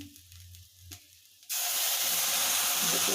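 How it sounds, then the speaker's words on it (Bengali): Water poured into a hot pan while making a curry bursts into a loud, steady hiss and sizzle partway through, after a quiet start with faint low rumble. "দেখতে পাচ্ছেন জল আমরা ভরে দিলাম এই মুহূর্তে"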